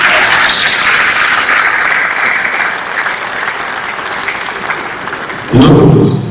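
Audience at a live-streamed talk breaking into loud clapping, strong at first and gradually thinning, before a loud voice cuts in at the end.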